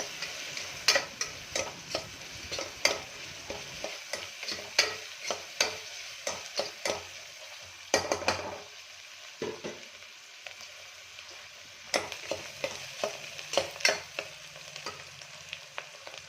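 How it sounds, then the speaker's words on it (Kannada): Onions and curry leaves fry in a pan for vegetable saagu, a soft background sizzle punctuated by frequent irregular spoon taps and scrapes against the pan, close and without talk. "ಇವಾಗ ಸ್ವಲ್ಪ ಕರಿಬೇವಿನ ಸೊಪ್ಪು ಹಾಕೋಣ. ಈರುಳ್ಳಿ ಸ್ವಲ್ಪ ಫ್ರೈ ಆದಮೇಲೆ"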